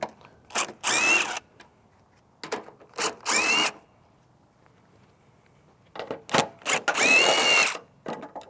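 Power ratchet or drill runs in short whirring bursts while removing headlight bolts with a 10mm socket on a Toyota Tacoma, close and loud, with quiet pauses between bursts.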